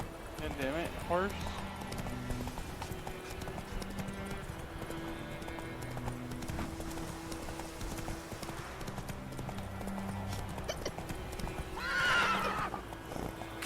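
A horse in The Witcher 3 clip-clops steadily at a gallop, then gives a loud whinny near the end, while someone talks over the hoofbeats throughout.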